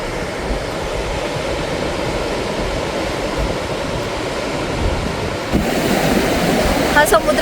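Steady surf rolls in along the long six-kilometre beach at Guhagar on the Konkan coast, a continuous broad wash of waves that grows slightly louder near the end.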